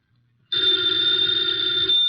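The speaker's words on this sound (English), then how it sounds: "the ringing of that phone bell brings you mystery, adventure" A telephone bell starts abruptly after a short silence and rings continuously, loud and close, a bright metallic trill that holds steady to the end.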